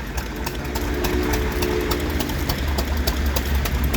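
A 1922 Fairbanks Model Z engine mounted on a homemade tractor built to look like a Rumley runs at a harvest show, its slow, regular firing beats pulsing steadily over outdoor background noise.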